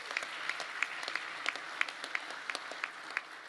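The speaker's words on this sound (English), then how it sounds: "How about a round of applause for" A conference audience at the Doral resort applauds the venue, steady dense clapping from a large crowd filling the room at moderate level, with no talk over it.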